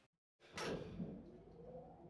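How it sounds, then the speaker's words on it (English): Heavy steel elevator doors slide shut in the Danganronpa: Trigger Happy Havoc video game, a loud rushing whoosh after brief silence that settles into a lingering low hum. "We watched the doors close."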